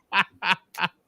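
A voice imitates a duck, giving three short, loud, nasal quacks at an even pace close to the listener.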